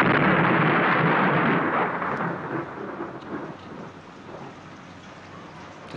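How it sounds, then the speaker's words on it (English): A heavy thunderstorm with steady rain pouring down and rolls of thunder, loud and close at first, then easing to a softer continuous downpour. "The storm."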